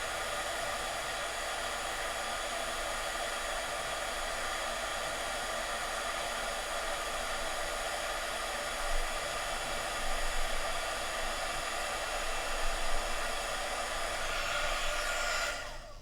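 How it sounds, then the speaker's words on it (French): A heat gun blows hot air in a steady, loud, unbroken rush that runs the full length with only slight swells, no voices. "Heat Gun"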